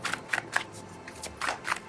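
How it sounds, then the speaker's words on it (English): Deck of cards being shuffled by hand, a quick series of crisp riffling bursts, close and fairly quiet, with no talk. "awkward way to try to shuffle because I got this deck right here"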